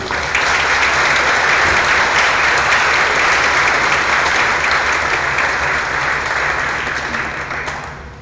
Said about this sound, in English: how about a warm round of applause for our company?